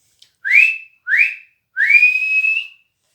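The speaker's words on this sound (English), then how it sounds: "The half-time whistle sounded." A whistle sounds for half-time at a football match: three clear rising blasts, the first two short and the last one long and drawn out, loud and close with silence between.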